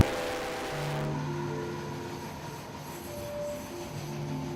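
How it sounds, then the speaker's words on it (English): Train rolling along a railroad line beside a ditch on a hike, a steady low rumble with faint metallic wheel squeals and tonal hums, moderately distant and continuous. "Trains will go by while we're out there."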